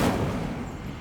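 Burst of the Incendio fire spell in the video game Hogwarts Legacy, a loud, brief whooshing blast at the start that quickly fades into a rumbling roar.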